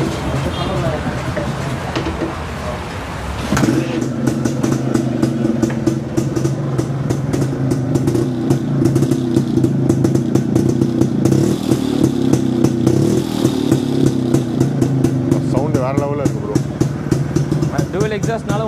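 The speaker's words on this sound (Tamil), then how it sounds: "ப்ரோ நம்ம இந்த எக்ஸாஸ்ட் சவுண்ட் கேட்டுருவோமா?" A 1979 Yezdi Classic motorcycle with dual exhausts starts up and runs in a Chennai workshop, its steady, loud, throbbing two-stroke idle continuing alone after a brief stretch of talk.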